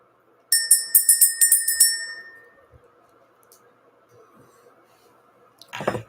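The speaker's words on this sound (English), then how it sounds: "Let's go ahead and ring this bell." A small bell is struck in a quick run of about eight bright, ringing tones that fade into a long, quiet decay, with a soft, low rustle after it and a short, louder handling noise near the end.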